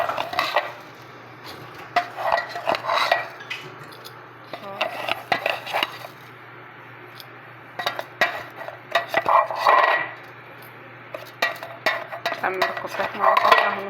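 Metal spoon scraping and clinking against a pot as shiro powder is spooned in and stirred, in repeated bursts of rubbing and tapping with pauses between.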